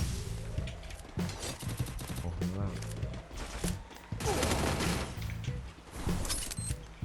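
Rapid bursts of video game gunfire crackle and pop over and over, with an excited voice exclaiming over the shooting.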